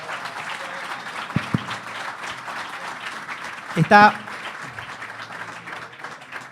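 Applause from the audience at a criminal law lecture gives a continuous patter of clapping, with a voice speaking over it and a loud, brief clatter near the middle.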